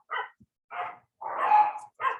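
Dogs being walked in a neighbourhood bark in the background: four separate sharp barks, one longer and rougher, spaced irregularly against otherwise quiet surroundings.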